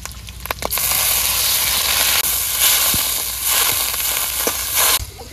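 Water poured into a hot kadai of oil with shrimp and sliced onion for an amra curry sets off a loud, steady hiss of steam and sizzle that lasts about five seconds.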